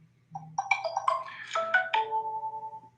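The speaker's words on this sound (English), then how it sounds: "That's my notification to remind me to do the live stream" A phone's reminder tone plays a bright, melodic chime sequence of rising notes, then a sustained tone that pulses and fades, clear and alone against low background hum.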